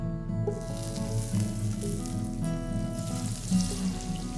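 Butter sizzling in a skillet over medium-high heat, a steady close crackle and hiss with faint clinks of a utensil, no voices.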